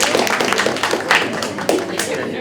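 An audience at a geography bee bursts into dense, continuous clapping that fills the room, loud and close for a couple of seconds.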